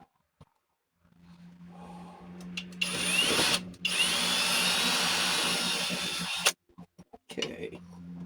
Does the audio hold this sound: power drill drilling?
yes